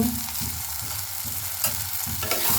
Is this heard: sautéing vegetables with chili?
yes